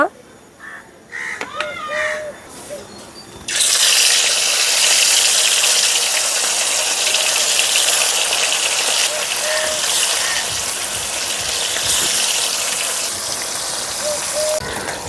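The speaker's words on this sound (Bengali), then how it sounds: "আমি এখন মাছগুলোকে ভেজে নেব" Pieces of rohu fish drop into hot oil and fry with a sudden loud, steady hissing sizzle that continues unbroken, while crows caw now and then in the background.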